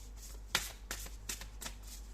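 Tarot cards are shuffled by hand in a quiet room, with four crisp riffling bursts spaced about a third of a second apart and the first burst loudest, then a card is drawn.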